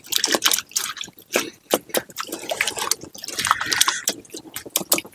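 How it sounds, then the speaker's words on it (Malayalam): Chopped tapioca being washed by hand in water at a forest campsite, with irregular splashes, drips and sloshing bursts coming close and fairly loud, pausing briefly between handfuls. "ഇനി ഇത് കഴുകി വൃത്തിയാക്കാം."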